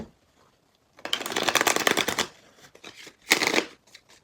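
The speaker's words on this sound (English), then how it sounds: "Let me shuffle for you really quick." Tarot cards being shuffled in two bursts of rapid riffling clicks, close and crisp, separated by a short pause, with no talking.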